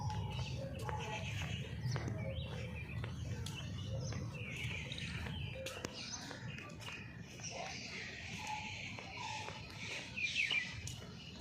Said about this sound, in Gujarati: મોરનો અવાજ બી બહુ મસ્ત આવી રહ્યો છે.